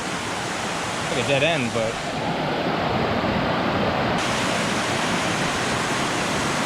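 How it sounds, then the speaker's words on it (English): Steady broadband roar of a tall waterfall pouring down on a Palau hiking trail, loud and unbroken, with a person briefly talking over it. "I hear the waterfall"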